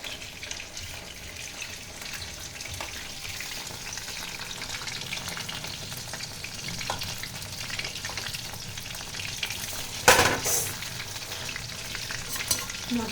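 Meat fries in a pan with ginger and garlic paste and Indian masalas, giving a steady close sizzle under repeated stirring scrapes, with a louder splashy burst near the end.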